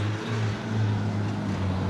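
An engine on a test ride, running on very old gas and bogging down, gives a steady low rumble with strong low harmonics that hold constant and close, with no talk over it.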